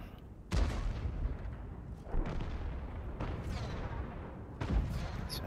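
Tank cannon shots in a tank battle game, four heavy booming reports spaced a second or two apart, each trailing off in a rumbling decay.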